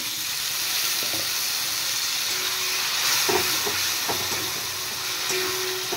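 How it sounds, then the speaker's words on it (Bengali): Tomatoes and a splash of water hit a hot pan for a Bengali fish dal, giving a strong, steady steamy hiss and sizzle with a few faint clinks, close and without talk. "এবার দিয়ে দিলাম টমেটো, সামান্য একটু জল দিয়ে দেব"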